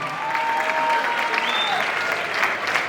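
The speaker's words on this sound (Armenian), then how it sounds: "Հիմա ակնկալում եմ, որ հնչելու են բուռն ծափարություններ հատուկ ձեր երկկողմ բարեկամության համար։" Enthusiastic, sustained clapping from a crowd at a celebration, steady and fairly close, with some voices and whistle-like tones mixed into the applause.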